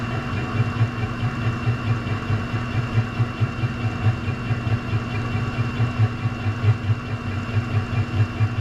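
A diesel heater converted to burn waste oil keeps running after its primary fuel is cut, a steady rhythmic pulsing chug over a constant hum, close and continuous with no voices.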